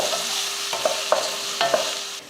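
Beetroot cooks in a pan with salt, giving a steady sizzle with a few scraping stirs of a utensil against the pan, close and alone without any voices.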